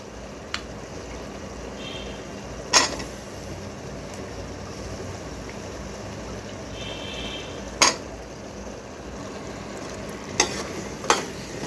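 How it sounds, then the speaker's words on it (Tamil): Potatoes being stirred and sautéed with masala in a pan for a Tamil potato poori curry, a low steady sizzle broken by a few sharp scrapes and clinks of the spoon against the pan. "இந்த உருளைக்கிழங்கு போட்டு நல்லா இந்த மசாலாவோட நம்ம வதக்கி விடுவோம்"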